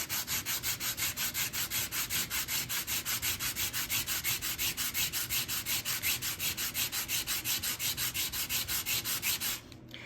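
Sandpaper rubs rapidly over an uneven plaster intaglio cast in a steady back-and-forth rhythm, close and continuous for about ten seconds before it stops abruptly, with no talk.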